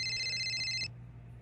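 A cell phone rings with a steady high electronic tone that stops abruptly partway through, leaving a quiet low hum behind; close and clear, with no one talking.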